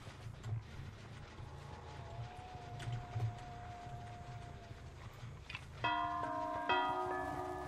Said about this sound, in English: He's got like a bell.